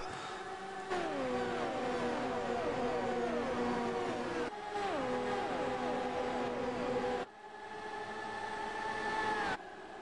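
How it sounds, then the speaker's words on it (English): Racing cars roar past in waves at Indianapolis in a racing simulator, engines whining up through gears in layered, sweeping pitches, several passes repeating one after another. "It's great to hear these cars go around here."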